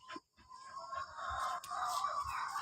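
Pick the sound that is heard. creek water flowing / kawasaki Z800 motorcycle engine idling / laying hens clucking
laying hens clucking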